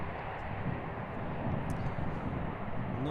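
An airliner takes off from the Kaapbaan runway at Schiphol Airport, Amsterdam, under cloudy skies. It makes a steady, distant broadband engine roar that holds constant throughout.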